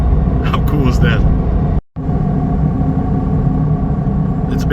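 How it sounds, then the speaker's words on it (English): Small diesel engine of a Volkswagen XL1 heard from inside the cabin while driving, a steady low rumble with road noise and a brief dropout, while someone talks over it. "only the little diesel engine does its best. And you can hear that."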